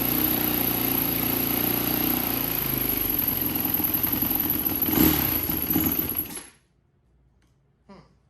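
A used 450 dirt bike engine idles with a loud, steady rumble for about six seconds, then cuts out into near silence, followed by a brief faint knock.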